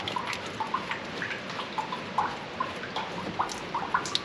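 Water dripping inside a sewer line during sewer service work, a quick irregular patter of small bright drips over a low hollow background rumble, close and fairly faint.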